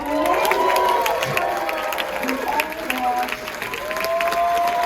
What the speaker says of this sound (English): let's have a huge round of applause for that